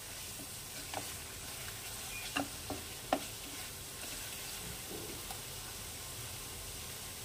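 Whole coriander and cumin seeds are dry-roasted in a dry kadai to drive off their dampness, giving a faint, soft hiss broken by a few light stirring clicks and scrapes, with no talking.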